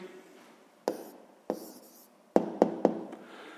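A pen writes an answer down on paper during a sixth-grade maths exercise, heard as a run of faint scratchy strokes broken by several sharp taps, close up with no talking.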